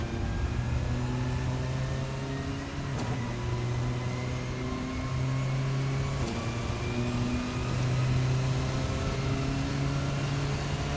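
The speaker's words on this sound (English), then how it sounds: "Hear some wonderful driveline noises as well." Driveline whine and engine drone from the Formula RSS 4 2024 race car in a racing simulator, sustained tones stepping up and down in pitch as the car accelerates and shifts, close and steady for several seconds.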